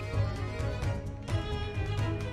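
Music from The Great Ace Attorney video game plays as dense, steady orchestral music with a pulsing low line, heard alone at moderate volume.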